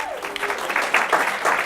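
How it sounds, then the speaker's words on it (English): Applause from a corporate awards audience honoring President's Club members, a brief, dense burst of clapping that stays steady throughout. "Please join me in a round of applause for these aspiring President's Club honorees"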